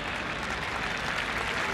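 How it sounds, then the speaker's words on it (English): Broad, steady crowd noise from a cricket match stadium, a continuous loud wash with no clear breaks, heard as booing from the stands. "Boos from the crowd."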